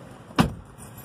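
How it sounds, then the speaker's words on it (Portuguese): A single door-opening thunk on a 2019 Jeep Renegade, one short broadband burst with a faint jangle, close and brief against a quiet cabin background. "As portas do carro abrindo."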